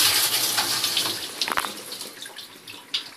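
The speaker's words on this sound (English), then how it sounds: "it squirts water all over the place" Water spraying from a malfunctioning dishwasher under repair, a hissing, splashing rush with a few sharper spurts and drips, fairly close, no talk over it.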